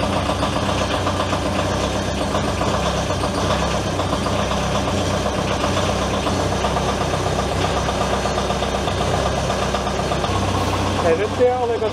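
A DIY compact loader's engine runs steadily at idle, loud and close, with a continuous knocking rumble that holds evenly throughout and changes slightly at the very end, while a person talks over it.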